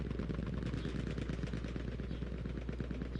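Rapid automatic gunfire from a shooter video game, a fast, steady rattle of shots over a constant low hum, loud and continuous throughout.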